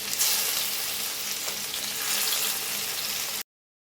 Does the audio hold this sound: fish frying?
yes